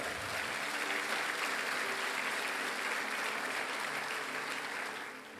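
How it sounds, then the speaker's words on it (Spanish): A church congregation applauding for God, a dense, steady roar of many clapping hands that holds at an even level throughout and fades slightly at the very end, with no speech over it. "Alguien dele un aplauso al Señor por eso."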